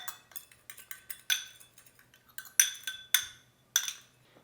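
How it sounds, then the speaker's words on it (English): Seasoned chickpeas being mixed in a bowl give off a series of sharp clinks and taps from a utensil against the bowl, irregular and close, with no talking. "I'm going to go ahead and just give this a little mix here"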